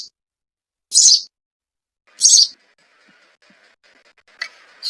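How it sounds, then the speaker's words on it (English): Several short, bright sparrow chirps stand out alone against a quiet background, with two clear calls spaced about a second apart and a softer chirp near the end. "sparrow"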